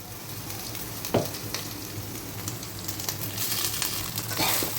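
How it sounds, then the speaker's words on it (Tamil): Cooked rice tipped into a pan of tempering with chillies and stir-fried, a steady close sizzle with a sharp knock early on and scraping stirs building toward the end. "இப்போ தேவையான ரைஸ் போட்டுக்கலாம்."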